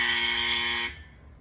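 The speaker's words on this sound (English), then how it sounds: "I'm pressing the buzzer at myself" A game-show style buzzer pressed once during a fantasy football dynasty league address, sounding as a loud, steady electronic tone for just under a second before cutting off to quiet room noise.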